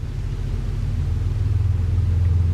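A train passing nearby gives a steady, loud low rumble that swells slightly over a few seconds, with no voices.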